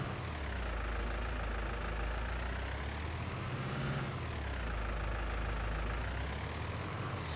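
Tractor engine idling in the Landwirtschafts-Simulator 19 farming game, a steady low droning hum that rises and falls slightly in pitch, continuous and fairly loud, with no talking.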